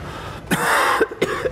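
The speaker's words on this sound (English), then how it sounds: "Dude, stop coughing." A character in the video game Escape From Butcher Bay coughs a few times in quick succession, a longer harsh cough followed by two shorter ones, close and clear.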